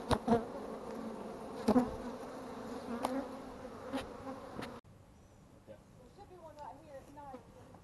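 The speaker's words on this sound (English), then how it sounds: "Look at the bees bringing in pollen." A steady buzz of many honey bees swarms close by at a hive inside a home, with a few sharp knocks and soft voices in the background.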